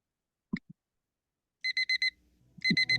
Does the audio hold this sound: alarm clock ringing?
yes